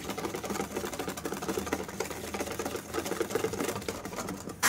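A stand mixer whips egg yolks and sugar syrup at high speed, its motor giving a steady, fast whirring rattle with a busy mechanical patter, close and fairly quiet throughout.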